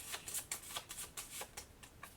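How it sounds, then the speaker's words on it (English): A deck of game cards for the board game Aeon Trespass: Odyssey is shuffled close up, a quiet run of soft riffling flutters and light taps, with no voices. "So now I'll shuffle this."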